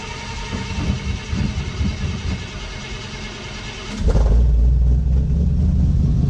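The engine of a 1955 Chevy truck under restoration turns over through a rough, noisy stretch, then catches with a sudden jump into a deep, steady, close rumble that runs to the end.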